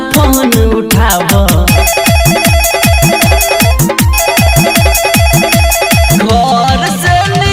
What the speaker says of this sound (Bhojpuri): हेलो हेलो बाबा फोन उठाव।